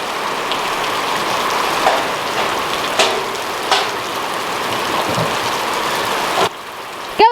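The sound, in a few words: rain pouring down outdoors at feeding time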